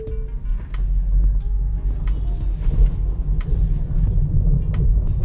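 A Tesla Model 3 on the road, with steady low tyre and road rumble throughout, fairly loud and continuous, plus occasional faint ticks and clicks from the cabin.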